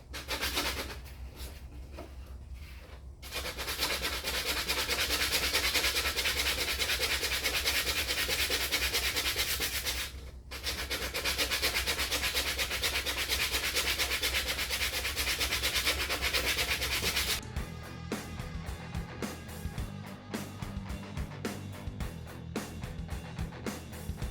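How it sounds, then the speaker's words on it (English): Sandpaper is worked by hand across the front fender of a 2008 Kawasaki Vulcan 900 motorcycle. A steady, close, raspy rubbing runs on for long stretches, broken by brief pauses, and turns to choppier strokes toward the end. "We'll have to get some finer sandpaper to finish that."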